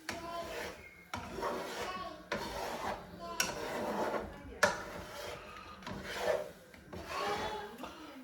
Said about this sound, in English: when I'm pushing the eggs down and we're sticking, I am scraping a little bit